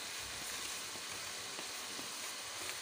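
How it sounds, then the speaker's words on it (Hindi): Meat fries in a pan for haleem, giving a steady, close sizzle with light crackles and occasional stirring, alone without talk. "अब ये गोश्त को देख लेते हैं, तकरीबन फ्राई हो गया।"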